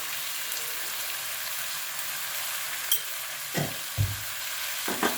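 Spice masala with salt frying in a pan over low to medium heat for a prawn and potato curry, a steady close sizzle with a few soft scraping stirs near the end.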